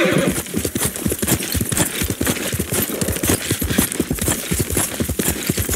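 Horse hooves clip-clop in a rapid, rhythmic gallop in the video game Ghost of Tsushima, close and loud, with a whinny mixed in and no speech over it.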